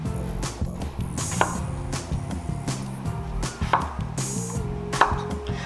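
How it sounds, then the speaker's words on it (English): A knife chops potatoes into half-inch cubes on a cutting board, irregular sharp knocks spaced a fraction of a second apart, close and clear, with no talk. "Now I'm gonna go ahead and clean my potatoes and cut them up to 1/2-inch cubes"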